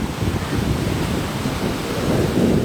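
Strong sea waves roll onto a Kaliningrad beach, a continuous loud roar of surf mixed with wind buffeting the microphone, with no voices.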